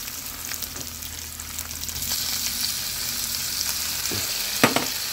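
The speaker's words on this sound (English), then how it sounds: "I will put my white onion in there." Chopped white onion sizzles and fries steadily in a hot pan while being cooked with pineapple and clams. A continuous crackling hiss is broken by occasional stirring clicks and one sharper scrape near the end, with no talking.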